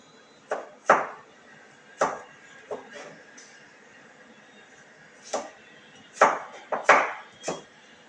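A knife dicing food into quarter-inch pieces on a cutting board, giving sharp, close chops that land in irregular bursts with quiet pauses between, some strokes coming in quick pairs.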